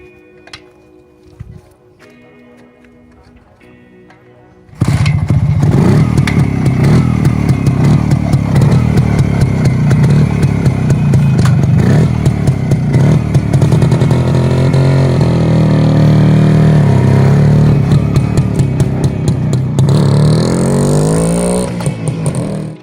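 A CZ 175 Czech motorcycle engine starts after quiet ticking, then runs loud and close with a throbbing, clattery idle, blipping and revving at times, and rising to a higher-pitched rev near the end.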